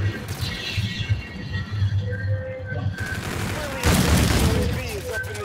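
Rapid bursts of gunfire in a Call of Duty-style multiplayer shooter, a fusillade of shots under busy game sound, with a louder, denser volley in the second half.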